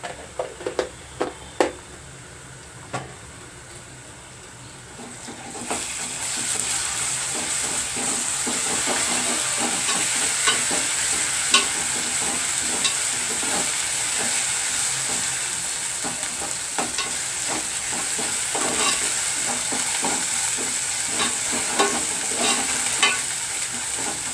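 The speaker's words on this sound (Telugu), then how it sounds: "ఇలా అల్లం వెల్లుల్లిపై పచ్చివాసన పోయేదాకా వేయించుకుందాం" Ginger garlic paste fries in a pan for a prawn and drumstick curry. The clip opens with a few stirring clatters, then a loud, steady sizzle and hiss runs to the end, with occasional scrapes of a spoon.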